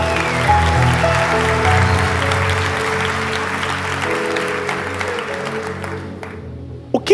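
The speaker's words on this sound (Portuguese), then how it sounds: "Quem pode aplaudir?" A church congregation claps during a sermon, a full, sustained burst of applause over a low musical drone that gradually thins out and fades near the end.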